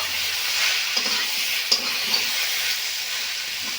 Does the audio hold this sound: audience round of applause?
no